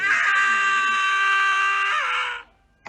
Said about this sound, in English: That was quite a scream.